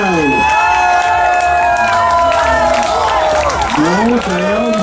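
Crowd at the Kuldīga town festival in 2013 applauding and cheering a singer, steady loud clapping mixed with shouts and whoops throughout, with sung or spoken voices rising over the noise.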